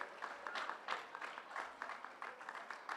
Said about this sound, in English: Let's give these guys a round of applause for working so hard in math this year